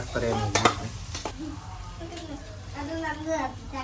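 Kuska simmers in water in a pot while it is stirred, giving soft scraping and a few sharp utensil clinks under a faint sizzle, with people talking nearby.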